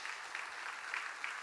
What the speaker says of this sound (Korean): 우리 박수 한번 해줄까요?